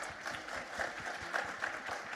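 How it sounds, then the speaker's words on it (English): Faint applause rises from an audience at a panel discussion on clinical research, a brief patter of many hands clapping that sounds quiet and somewhat distant. "A round of applause."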